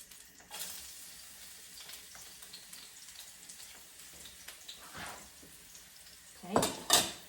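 Ginger and garlic dropping into a pan for pork rib and corn soup give a faint sizzle with soft stirring, then a louder burst of frying and utensil clatter near the end.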